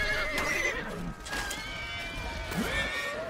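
Horse neighing in the medieval combat video game Chivalry 2, a loud whinny amid battle noise with faint hoof clatter, close and prominent for a few seconds.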